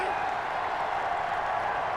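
A stadium crowd in the Madden 21 football game, Chargers at Buccaneers, reacts to a roughing penalty call with a steady, dense roar of many voices that holds at an even level throughout.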